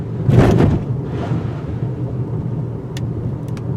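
One dull thud from a 2018 Mitsubishi Eclipse Cross crossing a speed bump at about 25 mph, followed by continuous low road rumble and engine hum.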